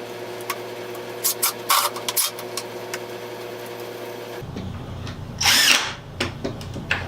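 A power driver with a long-shank bit drives a screw into a clamped wooden picture frame. It sounds as several short, close whirring bursts with a longer, louder burst near the end, and no talking.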